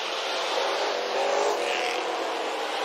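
ARCA stock race cars roar around the Illinois State Fairgrounds dirt oval, a steady loud engine drone with a slight swell as cars pass, no voices.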